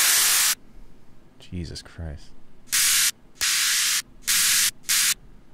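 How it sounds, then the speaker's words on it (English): Harsh bursts of white noise from music production cut on and off in blocks of varying length, loud and alone, with a brief exclaimed voice in one of the gaps. "White noise can be the most, like, jarring thing ever"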